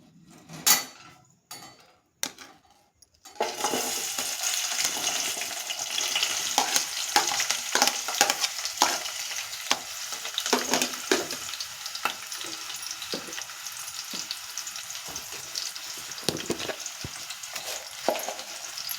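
Sliced onions and green chillies sizzle loudly in hot oil after a few sharp clatters of dropping in, settling into a steady crackling fry with occasional stirring scrapes.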